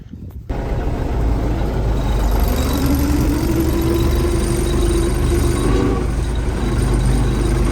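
An MTZ tractor's diesel engine fires up after a brief quiet moment and settles into a steady, loud, close running rumble that carries on unbroken.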